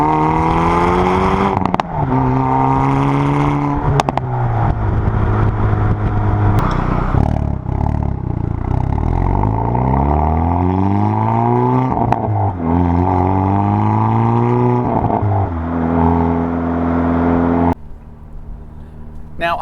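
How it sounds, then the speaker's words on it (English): A 2020 Hyundai Veloster N engine drones and revs loudly while driving, rising and falling through repeated upshifts and downshifts. A voice talks intermittently over the engine, and the sound drops away sharply near the end. "I am driving the latest addition to the what I call super hot hatch class, a 2020 Hyundai Veloster"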